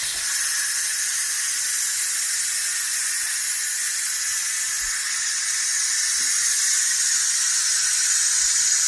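Steam bursts from a pressure cooker's release valve after beans cook at high pressure, a loud continuous hiss with a squealing edge that holds steady for the whole stretch without pause.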